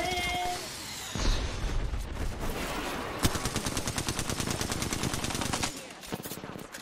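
Rapid automatic gunfire from a video game, a dense stream of sharp shots in bursts that runs most of the way through, loud and close, with a brief lull near the end.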